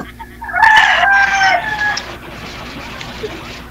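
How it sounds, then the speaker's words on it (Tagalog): A native rooster crows once, loud and fairly close, a drawn-out call of about a second and a half, followed by quieter farmyard background. "Kanina pa ho yan tilaok ng tilaok, oh."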